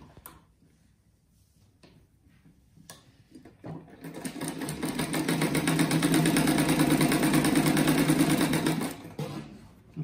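A sewing machine stitches strips of a striped fabric rug, starting with a few handling clicks and rustles, then running in a steady fast whirring rattle for several seconds before slowing to a stop.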